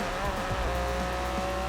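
A 2016 Ford GT race car in Forza Horizon 5 holds a steady, droning engine note at speed, with a faint tire squeal underneath. It plays alone, without commentary.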